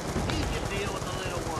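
Rapid bursts of automatic gunfire from Black Ops 2 Zombies in the Buried map crackle loudly and continuously for a moment, dense and near.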